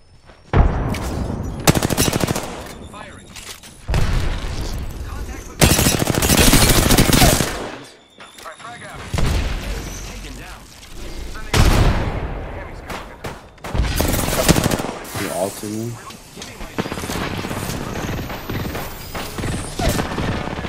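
Heavy gunfire in Apex Legends: long loud bursts of rapid automatic fire alternating with brief pauses and mechanical clatter, close and dense throughout.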